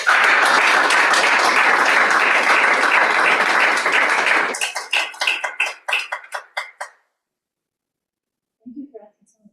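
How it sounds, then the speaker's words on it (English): An audience applauds steadily and loudly for several seconds, then the clapping thins to a few scattered claps and stops, leaving silence before a brief faint sound. "Allison, another round of applause."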